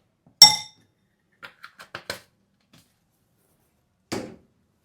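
A small spoon stirs cinnamon powder into a drink in a glass, giving one sharp clink, then a quick series of four or five light taps, and another clink after a pause.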